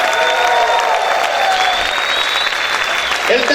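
A church congregation bursts into loud, sustained applause with shouts and cheers, a dense wash of clapping filling the room without pause.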